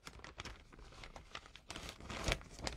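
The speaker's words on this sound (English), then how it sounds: "I actually put this in a plastic bag." A plastic bag holding baby wipes is handled, giving faint, irregular crinkling and rustling with one sharper crackle near the end, close and quiet.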